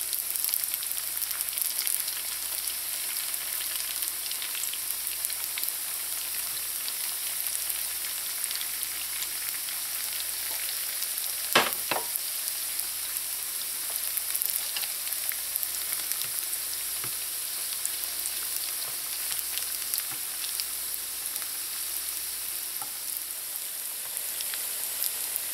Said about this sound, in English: you're going to fry the wontons until they're golden brown